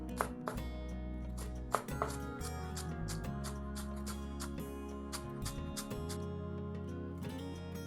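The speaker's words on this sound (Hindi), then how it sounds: "ये जो ग्रीन वाला हिस्सा है इसे कट कर लेना है।" Green parts of spring onions are chopped with a knife on a board, the blade striking in a quick, steady, close rhythm of many sharp taps over a low background hum.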